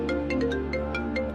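A phone rings with a bright electronic ringtone, short repeated melodic beeps in a steady rhythm over a constant hum, close and clear with no talk.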